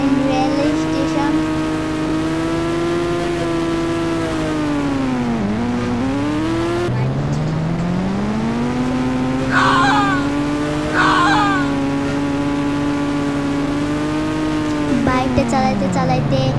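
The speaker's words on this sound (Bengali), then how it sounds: "বাইকটা চালাইতে চালাইতে আমরা চলে আসছি।" A motorbike rides along a road toward a railway station, its engine note climbing and dropping with gear changes across several long revving sweeps, close and loud, with wind noise and brief bursts of other sound.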